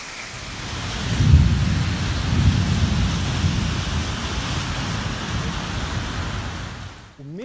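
Heavy rain pours down in Cape Town during a thunderstorm, a dense steady hiss of downpour with deep rolling thunder swelling early and lingering, loud and close throughout before cutting off abruptly.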